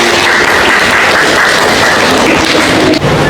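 A roomful of teachers at a coaching session applauds loudly and steadily, dense clapping that stops abruptly near the end.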